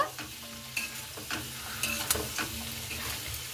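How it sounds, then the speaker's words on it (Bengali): Chilli and potato frying in fish oil are stirred in a pan, a soft continuous sizzle with repeated scraping strokes of the spatula, close and clear with no talking. "এবার আমি হালকা করে নাড়াচাড়া করে নেব।"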